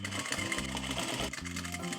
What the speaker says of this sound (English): Then we take some bias tape here and sew it onto the main body.